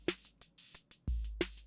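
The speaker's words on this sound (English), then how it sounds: "The hats, which are not going through the distortion pedal," Undistorted 808-style hi-hats from a Eurorack modular synth tick in a quick steady pattern, crisp bright metallic hits with short decays, joined by a couple of deep kick thumps, loud and dry with no voices.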